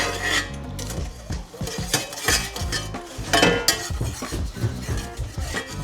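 Metal pans are handled and scraped while being coated for cooking, a busy, loud clatter of clinks, rubbing and scraping with no talk.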